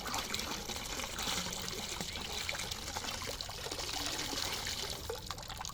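A bucket is dipped into water while fishing, bringing steady close sloshing and trickling pours of water that keep going throughout at moderate loudness, with no talk.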